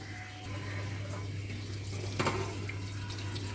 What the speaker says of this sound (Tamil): ஸ்டவ்வை ஆஃப் பண்ணிவிட்டு வடிகட்டிக்கிறேன்